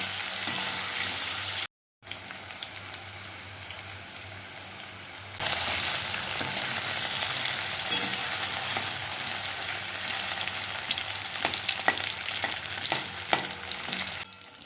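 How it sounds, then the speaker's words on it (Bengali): Diced potatoes frying in hot oil in a pan, a continuous close hiss and crackle that grows louder partway through, with occasional clinks of stirring. "আলুগুলোকে আমি খুব ভালো করে লাল লাল করে ভেজে নেব, ভাজতে ভাজতেই যেন অনেকটা সিদ্ধ হয়ে যায়।"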